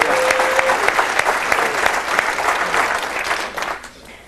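A breakfast audience at a leadership event gives a loud, full round of applause that holds steady for a few seconds before thinning out and fading near the end.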